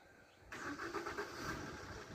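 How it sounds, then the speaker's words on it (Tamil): A car pulls up with its engine running, a steady mid-pitched hum that starts abruptly after a quiet half second and holds fairly faint and close, with slight rises in pitch. "கண்டுபிடிச்சிருச்சு, கார் வந்துருச்சு."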